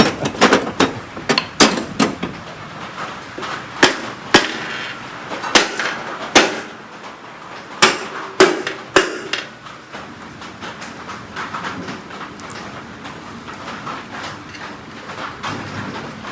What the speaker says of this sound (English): The rubber hammer.